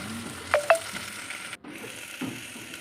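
A spoon stirs bendi (okra) masala frying in a pan: a couple of sharp clinks near the start, then soft scraping over a faint, steady sizzle.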